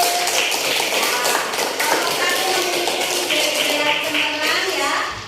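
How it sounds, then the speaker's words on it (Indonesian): A classroom of children applauds group 1, a dense stretch of rapid, steady clapping that stays loud and continuous with scattered taps and shuffles mixed in. "Tepuk tangan untuk kelompok 1"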